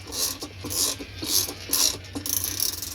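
Long agitator bolt being tightened on a Maytag Whirlpool washing machine, a repeated ratcheting click-and-rasp in steady strokes, close and moderately loud over a low hum.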